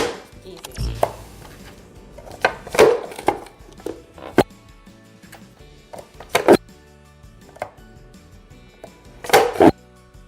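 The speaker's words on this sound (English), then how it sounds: "Cut carrots for the curry." Knife chopping carrots on a cutting board for a homemade Indian curry, a series of sharp, irregular thuds at close range, some grouped in quick bursts, with faint background sounds and no talking.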